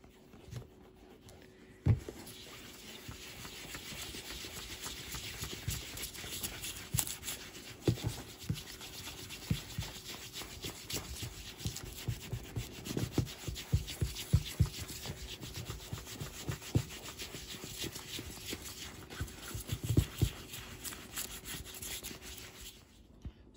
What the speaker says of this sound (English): I've buffed this with a soft brush